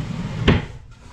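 A dresser cabinet drawer aboard a boat is handled, giving one short wooden knock or bump mid-way against quiet background room noise.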